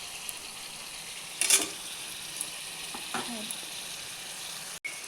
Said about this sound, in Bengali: চালমগজ, পোস্ত, কিশমিশ, কাঁচা লঙ্কা, টমেটো, এই পেস্টটা এবার আমি দিয়ে দিচ্ছি।